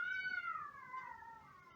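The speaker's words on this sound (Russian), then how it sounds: "Ой, там у меня кошки, котята." A farm cat gives one long, drawn-out meow that slides downward in pitch, close and clear over faint background rustle, with no talk.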